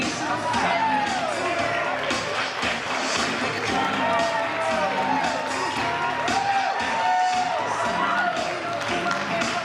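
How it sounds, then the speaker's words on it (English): Wedding guests clap and cheer steadily as the bridal party enters, continuous crowd applause with voices mixed in throughout. "Your bridal party, please give a nice round of applause"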